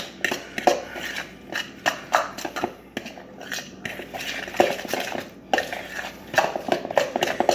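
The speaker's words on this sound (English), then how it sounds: "So now we're going to mix this all up here." Tuna, egg and mayonnaise are mixed in a bowl for patties, with repeated close clinks and scrapes of a utensil against the dish and soft wet squishing between strokes, uneven in rhythm and with no talking.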